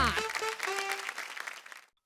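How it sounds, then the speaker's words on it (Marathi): A studio audience at a Marathi television game show applauds five contestants moving on to the next round, a brief burst of clapping that overlaps a short musical sting and fades out within two seconds. "एकदा जोरदार टाळ्या"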